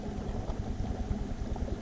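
A Gheenoe's outboard engine idles on the Waccasassa River, a steady low rumble with a fast even throb, close and continuous with no talk.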